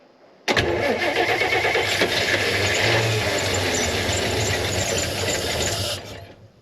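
An old car engine, nicknamed Old Yeller, starts abruptly and runs loud and close at a steady rumbling idle for about five and a half seconds before fading off.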